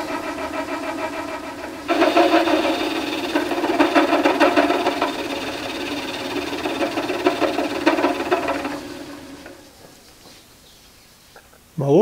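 A small metal lathe turns a large steel part with a 1/8 inch deep cut, giving a steady grinding, whirring machining noise that starts abruptly near the beginning, runs continuously at moderate loudness, then fades out toward the end.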